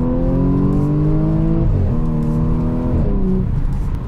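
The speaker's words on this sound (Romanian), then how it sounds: "Despre asta este vorba la acest supercharger de la Audi." A supercharged Audi S5 Cabriolet engine pulls hard in second gear from about 70 km/h, its loud, steady tone climbing in pitch, dipping briefly at a gear change and then rising again, close and without any talk.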